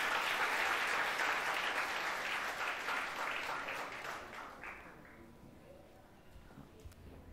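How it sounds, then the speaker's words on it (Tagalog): Church congregation applauds during a Sunday service, a dense round of clapping that starts loud and gradually fades out over several seconds, with a voice speaking over it. "The best na palakpak po para kay Lord."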